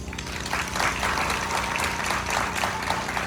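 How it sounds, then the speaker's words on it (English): An audience applauds steadily at the opening ceremony of an AFSP suicide-prevention walk in Virginia's Peninsula, a dense, even wash of many clapping hands lasting a few seconds without a break. "if you guys can hear me, that clap, I want you to do it for yourself"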